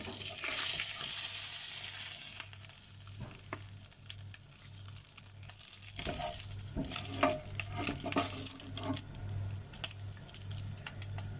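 King fish pieces fry in oil in a pan with a gentle crackling sizzle, interrupted by scattered clinks and scraping of utensils as pieces are stirred and moved, quiet and close with no talk.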